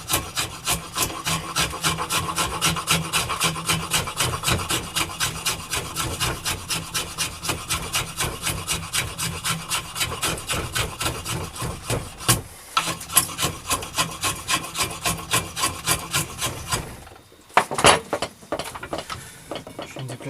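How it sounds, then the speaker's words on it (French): A drawknife shaves wood on an old wooden carpenter's frame saw under restoration, giving long runs of quick, rhythmic scraping strokes close by with a brief pause near the end. "Maintenant j'ai plus qu'à enlever le milieu. Donc à la plane, en donnant le bon angle normalement"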